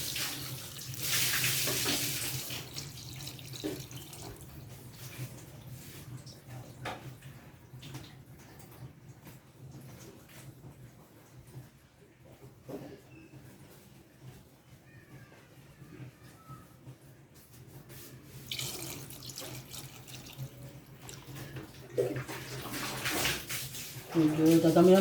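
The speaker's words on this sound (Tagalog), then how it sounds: "Medyo dadamihan po natin ng tubig." Tap water runs into a cooking pot for paksiw, a loud gush at the start and again near the end with quieter splashing and room noise between, while a person talks over it.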